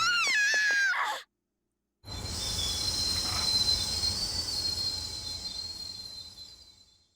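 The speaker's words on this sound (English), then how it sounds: "There's a train up ahead." Train rushing along tracks in Persona 3 FES, a loud sustained rumble with high metallic wheel squeal that builds and then fades away, following a short burst of game music and a moment of silence.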